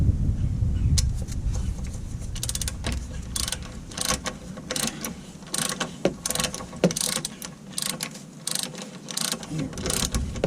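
A ratcheting removal tool is turned in the loosening direction on the rear suspension links of a 1997 Volvo 850 wagon, giving a series of sharp mechanical clicks and metallic ticks, close and fairly quiet, with no talk.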